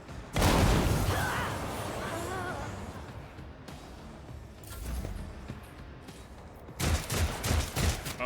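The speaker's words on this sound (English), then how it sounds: "Oh, now he's shooting it?" Gunfire crackles through combat in the video game Warhammer 40K Rogue Trader: a heavy burst opens, a rumbling barrage fades beneath it, and a second loud volley erupts near the end.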